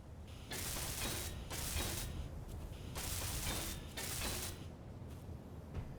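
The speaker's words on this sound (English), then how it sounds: "Let me weld some of these up so I can see." Welding blocks in the game Space Engineers makes a faint, hissing, crackling spray that starts and stops in several bursts of a second or so, with quiet gaps between them.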